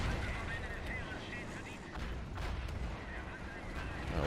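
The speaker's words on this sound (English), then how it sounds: "Essentially, it's more like a artillery anti-tank gun." In a WWII Men of War: Assault Squad battle, an artillery anti-tank gun booms amid dense rumbling gunfire, with heavy continuous battlefield noise and a voice talking over it.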